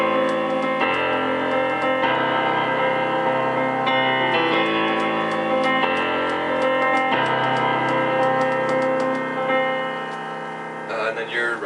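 Piano plays the intro of a song, sustained chords changing roughly every two seconds in a steady, ringing pattern, near and clear.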